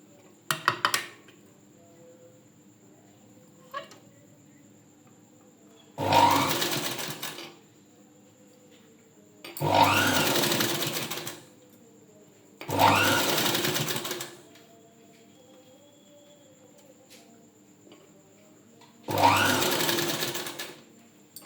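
A sewing machine stitches blouse puff sleeves in four separate loud runs, each lasting over a second, with quiet pauses and faint handling noises between them.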